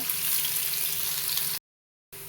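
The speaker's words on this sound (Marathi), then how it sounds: "आता आपण कांदा टाकून घेऊया" Chopped onion sizzles in hot oil for an egg curry, a dense, steady close frying hiss that cuts off abruptly into silence before briefly resuming.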